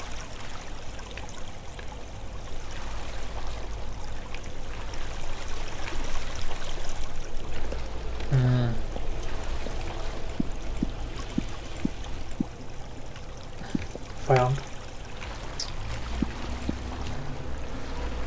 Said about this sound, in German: ich habe jetzt hier unten immer die ganzen Wassergeräusche.